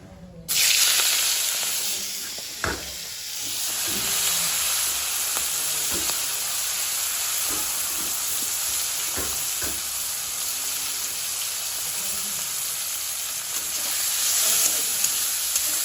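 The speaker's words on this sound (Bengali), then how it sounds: "কড়াই তেল গরম হয়ে গেছে, আর নুন হলুদ মাখিয়ে রাখা চিংড়ি মাছগুলো এখন ভেজে নেব।" Prawns coated in salt and turmeric frying in hot oil in a wok, starting with a loud burst of sizzling that settles into a steady close hiss with occasional light taps.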